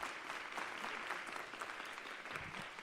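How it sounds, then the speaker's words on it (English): Student delegates at a learner leadership summit give a sustained round of applause, a fairly soft but steady roar of many clapping hands with no talking heard through the short stretch. "Can we give them all a round of applause, please?"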